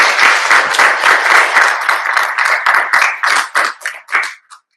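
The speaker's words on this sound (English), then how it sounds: "So can we just do a big round of applause for Craig," A conference audience claps warmly for a professor's talk, a dense burst of applause that thins into a few scattered, separate claps before stopping.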